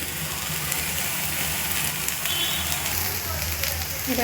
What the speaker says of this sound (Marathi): खोबरं कांदे लसूण अद्रक सगळं भाजून घेणार आपण